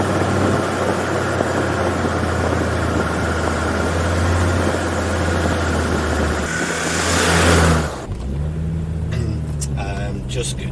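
A car driving down a narrow back-road rat run, heard from inside as a steady engine hum and road rumble that swells and then drops to a lighter drone near the end, with a voice talking over it.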